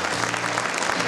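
A brief burst of dense, loud audience applause at a Culture Workers' Day ceremony, many hands clapping close together with no break.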